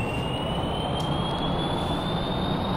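Jet engine of an aircraft in Kerbal Space Program spooling up, a steady broadband roar with a rising high whine, loud and continuous throughout.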